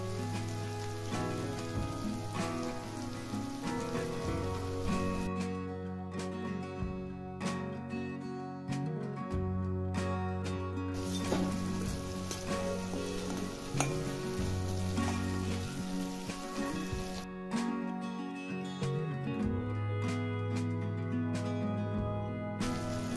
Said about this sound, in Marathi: आलं लसूण पेस्ट टाकायची आहे।